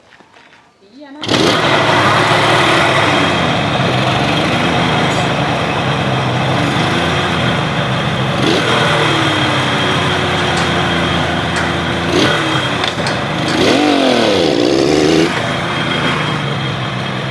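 A 32-year-old motorcycle engine, once stalled and being revived, starts after a second of quiet and runs steadily and loudly at close range, with slight revs rising and falling while people talk over it.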